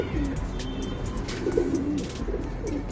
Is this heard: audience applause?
no